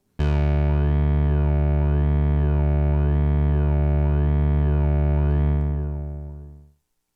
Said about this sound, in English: That sounds like a sine wave LFO to me.